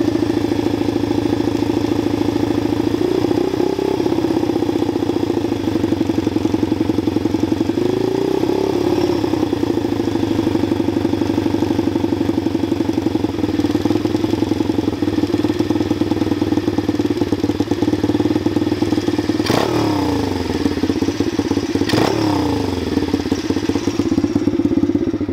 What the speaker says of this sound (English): You can also adjust the idle screw while the bike's on. It's kind of loud.